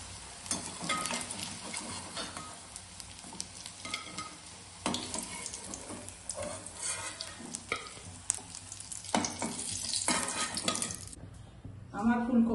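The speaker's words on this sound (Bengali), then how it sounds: "3-4টে করে দিয়ে ডিপ ফ্রাই করে নেব" Cauliflower pieces deep-frying in oil, an uneven bubbling sizzle broken by clattering stirs and scrapes, moderately faint and fairly close.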